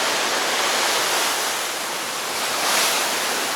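Ocean waves crash steadily against the rocky Gozo coast, a loud broadband roar of surf with a slight surge near the end, heard alone without voices.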